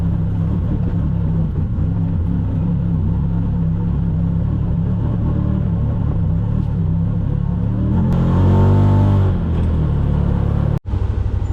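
A UTV engine rumbles low and steady on an off-road trail in West Virginia, then briefly revs louder near the end before a sharp knock cuts through.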